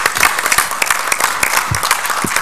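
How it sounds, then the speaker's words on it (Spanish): Applause from an audience at a Mexican legislative commissions meeting: dense, steady clapping from many hands, close and loud throughout, with no voices over it. "Un aplauso"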